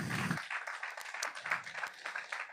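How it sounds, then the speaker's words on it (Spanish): Church congregation applauding during a Spanish-language sermon, a mid-level burst of scattered clapping that carries on through the whole moment, with a brief low thud at the start. "Dale un aplauso al Señor"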